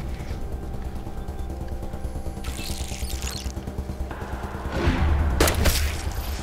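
Gunshots in the post-apocalyptic role-playing game Wasteland 2, a sharp crack and short burst rising over a steady droning game soundtrack, with no talking.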